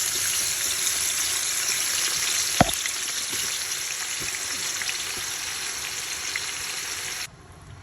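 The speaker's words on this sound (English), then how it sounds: "Once it's hot, add in the onions and fry" Chopped onions frying in about a liter of hot oil in a pan for a chicken stew, a steady close hiss with a single sharp knock partway through before the sizzle cuts off near the end.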